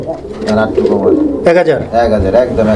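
Pigeons coo in low, throaty bursts close by at a pigeon market, with people talking over and between the calls.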